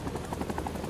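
A helicopter in the war video game Rising Storm 2 drones steadily with a rhythmic rotor chop, loud and close, with no speech.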